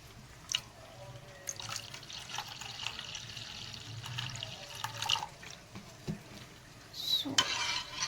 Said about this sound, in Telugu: దీంట్లో ఇప్పుడు మనం కొన్ని వాటర్ అయితే పోసుకుందాం